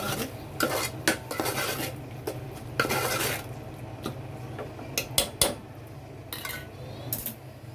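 A spoon clatters and scrapes around a metal pot while fish curry masala with coriander powder is mixed, irregular close clinks and knocks over a low steady hum, with no voices.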